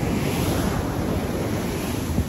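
Large sea waves wash onto Milos beach on Lefkada in a steady, loud surf roar, with strong wind buffeting the microphone and no talking.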